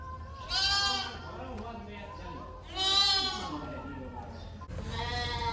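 Goats bleat in loud, wavering cries at a cattle shelter, three separate calls with short pauses between them, close by.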